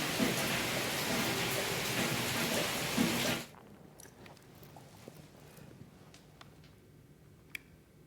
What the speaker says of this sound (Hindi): यहां देर रात से बारिश का सिलसिला जारी है।